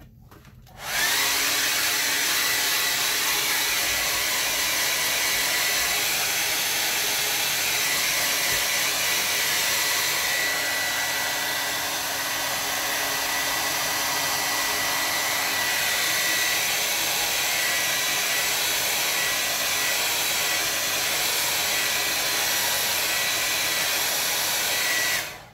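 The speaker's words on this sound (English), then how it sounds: "So I'm gonna do a quick dry off." A hair dryer blowing over a wet watercolor landscape on Bockingford blue tinted paper, a steady close whooshing motor roar running unbroken for about twenty-five seconds with a slight pitch shift midway, no speech over it.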